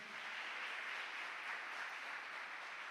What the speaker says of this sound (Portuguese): A igreja pode aplaudir os nossos visitantes?